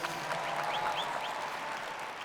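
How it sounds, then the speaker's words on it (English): Audience at the 97th National FFA Convention applauding after a keynote speaker's call, a dense, steady wash of clapping heard at a distance in a large hall. "please give them a round of applause for what they do"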